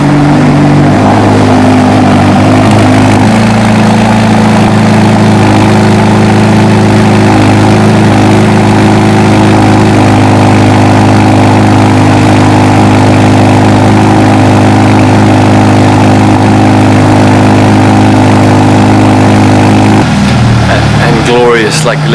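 A 2020 Ferrari Roma engine idles steadily nearby, a loud, even low rumble held for about twenty seconds before its tone drops slightly near the end.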